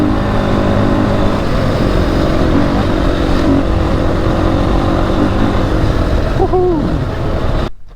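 A Beta 480 RR dirt bike engine drones loudly and steadily out on a trail, holding a sustained throttle note with wind rush before the sound cuts off at the end.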